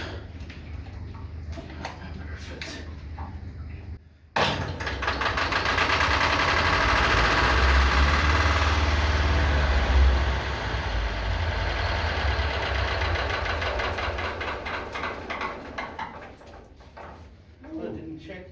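A Lister emergency fire pump engine, run after five years unused, starts with a jolt and settles into a loud, steady mechanical chugging, then winds down at the end, with people talking nearby.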